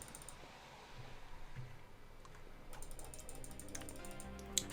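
Rapid clattering keystrokes on a computer keyboard, quiet and close, with irregular bursts of typing that get busier toward the end.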